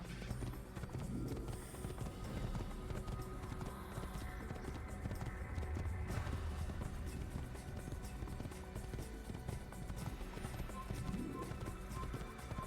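Galloping horse hooves in the video game Assassin's Creed, a fast, steady clip-clop rhythm running throughout over a busy game soundscape, with a faint whinny.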